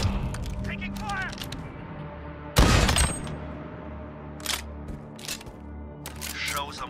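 Gunfire in Call of Duty: Modern Warfare, in a 2v2 match: one sharp, loud burst of shots stands out mid-clip, with scattered fainter cracks and mechanical game sounds before and after, under voices.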